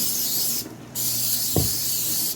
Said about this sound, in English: Spraying with creamy butter spray so it doesn't stick to your waffle maker.